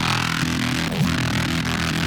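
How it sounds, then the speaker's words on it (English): A heavy synthesized growl bass from an electronic track, dense and continuous across the whole stretch, loud and gritty with wobbling low tones, no talking. "And then we also have this crazy like growl that we had made."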